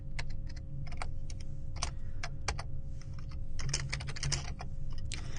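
Code is typed on a computer keyboard, clusters of quick, close key clicks with short gaps between bursts and no talking over them.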